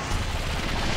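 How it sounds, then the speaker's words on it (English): Rockets launched from a starfighter during a space battle in Star Wars Battlefront II, a dense, continuous roar of booming blasts and rumble filling the whole second at steady loudness. "Rockets, away."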